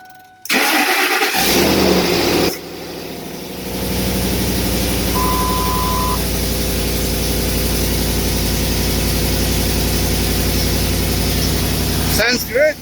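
A 2006 Ford Expedition engine cranks and catches, then settles into a rough, steady idle with a raspy, sputtering note from a leaking exhaust; a brief voice cuts in near the end.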